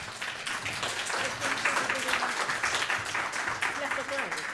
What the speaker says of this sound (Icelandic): Gefið henni klapp.